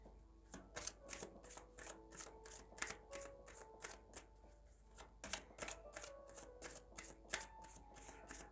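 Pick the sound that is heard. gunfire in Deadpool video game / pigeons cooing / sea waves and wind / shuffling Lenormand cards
shuffling Lenormand cards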